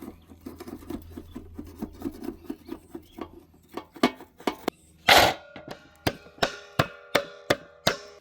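A knife cuts cooked, set egg mixture into paneer-like cubes for an egg-based paneer butter masala, giving soft scraping taps first, then sharper regular knocks on the board, roughly one every half second, close and clear.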